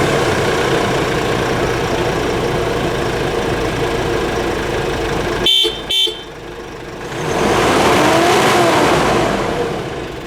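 A Mitsubishi L200 Triton pickup's 2.4-liter common-rail four-cylinder turbo diesel runs with a steady engine drone, cut by two short gaps, then swells into a louder rev before settling back.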